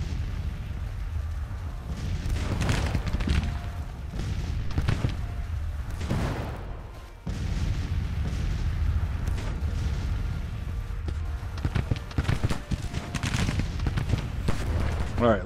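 Artillery fire in the video game Grand Tactician: The Civil War, with repeated booming cannon blasts and crackling volleys rolling over one another in irregular bursts, loud and continuous throughout.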